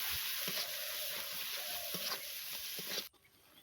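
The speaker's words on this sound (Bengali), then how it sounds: "এবার সমস্ত মশলা ভালোভাবে ভেজে নেব" Ground cumin, coriander and turmeric fry in a pan with a faint, steady sizzle and a few soft stirring taps, then cut off abruptly near the end.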